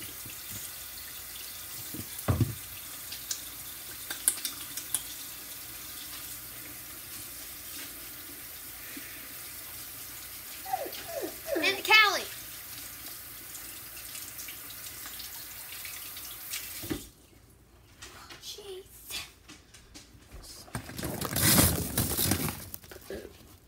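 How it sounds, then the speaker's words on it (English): A sink tap runs steadily while hands are washed under it, with brief splashes and clinks partway through, then the water cuts off and a louder gush and rinse follow near the end. "Now I'm gonna wash my hands real quick."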